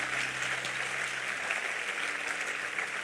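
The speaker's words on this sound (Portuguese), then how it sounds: "Vamos aplaudir a Ele." Church congregation applauding during a sermon, a continuous, fairly faint and distant patter of clapping over a low hum, lasting the whole stretch without voices.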